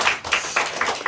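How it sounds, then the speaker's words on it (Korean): A congregation at a prayer-house association gathering claps together, a short burst of dense applause with rhythmic swells, no talking. "세 분 다 박수"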